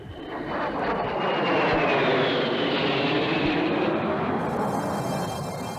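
A Harrier jet makes a fast low-level pass, a loud roaring rush that swells and sweeps past with a falling whine before easing off, with no other sounds present.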